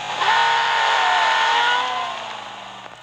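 A 2008 Lamborghini Gallardo LP564 Final Edition engine in the racing game Real Racing 3, revving steadily at high pitch for about three seconds, loud and close, then easing off slightly with a faint tire squeal, no talk.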